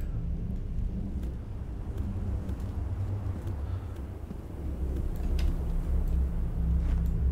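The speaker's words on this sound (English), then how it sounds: "I love the thunder." Video game thunder rolls as a steady low rumble that swells louder partway through, with hissing rain and wind over it and no talk.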